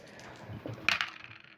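Dice roll and clatter on a tabletop during a game of Lost Patrol, a quick, close burst of small hard clicks that settles within a second.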